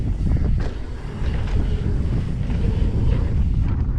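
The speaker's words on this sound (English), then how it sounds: "Still a hell of a lot windy though." Strong wind buffets the microphone outdoors at Woodhill, a loud continuous low rumble with gusty surges throughout, no voices present.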